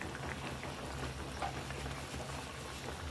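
A pot of fish curry with bele fish boiling on the stove, a soft continuous bubbling and simmering hiss, steady and fairly quiet, with no talking.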